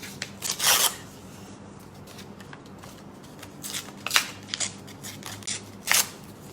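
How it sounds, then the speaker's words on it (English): Paper tears in several short, sharp rips spaced a few seconds apart, close and fairly quiet over a low background hum. "Can you hear the tearing?"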